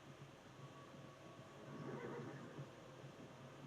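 A horse in Red Dead Redemption 2 whinnies faintly, heard far off under steady roaring wind and blizzard noise in a snowy setting.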